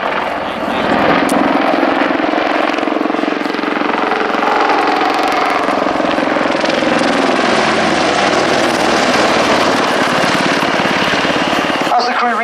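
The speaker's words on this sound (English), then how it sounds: "The Apache is capable of flying on just a single engine should it sustain any battle damage." An Apache attack helicopter roars loudly and continuously overhead during an air show display, its rotor and engine noise steady and dense, with voices faintly under it.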